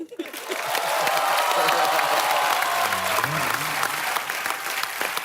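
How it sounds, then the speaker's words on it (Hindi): Thunderous applause and cheering rise quickly from a comedy show studio audience and hold at a loud, dense level, with voices and low musical tones sounding underneath. "तालियों की गड़गड़ाहट।"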